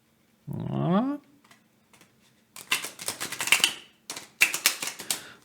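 Tarot cards shuffled by hand in short papery bursts of riffling and flicking, close and crisp, after a brief vocal sound and some quiet handling.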